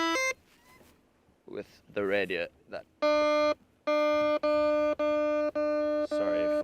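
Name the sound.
electronic beeping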